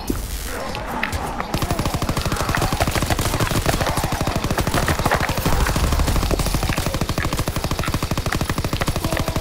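Rapid automatic gunfire rattles on without a break from a weapon in Call of Duty WWII Zombies, loud and dense under the game's background noise.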